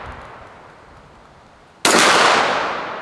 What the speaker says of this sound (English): Where them shots going, Blake?